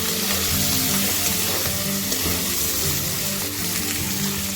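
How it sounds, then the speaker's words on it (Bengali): Chopped tomato stirred and frying in a pan for a Bengali aloo dum, a loud, continuous sizzle with wet bubbling and occasional stirring scrapes, no talking. "টমেটো দিয়ে ভালো করে নেড়ে নেব।"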